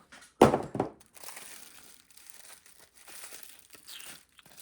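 A sharp crinkly tear of plastic packaging, two quick rips close by, followed by quieter rustling and handling.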